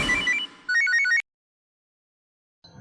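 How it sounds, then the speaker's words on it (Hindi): A phone rings in a Crime Patrol crime drama with a bright electronic ringtone melody of quick, stepped notes in two bursts. Silence follows, then a brief restart at the very end. No one speaks. "फोन आया।"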